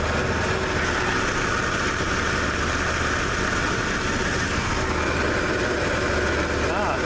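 A Ford F-150 engine idles after an oil change with a steady, loud, close rumble that stays even throughout, and a person talks over it.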